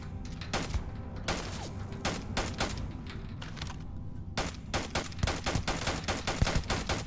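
Video game gunfire in rapid bursts, sharp loud cracks fired in quick runs with short pauses between, close and dense throughout.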